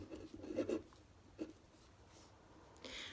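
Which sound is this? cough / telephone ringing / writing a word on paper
writing a word on paper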